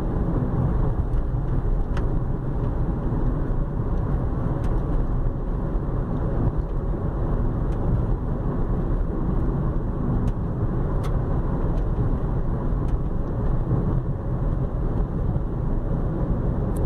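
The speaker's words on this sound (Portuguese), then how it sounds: "Cortou um caminhão." A truck passes through the Prefeito Marcelo Alencar road tunnel, a steady loud rumble of traffic and engine noise echoing throughout with no speech.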